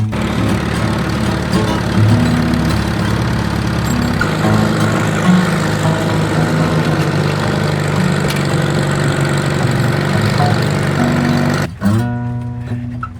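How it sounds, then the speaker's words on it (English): A 1974 Leyland 255 tractor engine runs close by with a steady low diesel drone, loud and unbroken for most of the time before a sudden shift near the end. "My tractor is a 1974 Leyland 255."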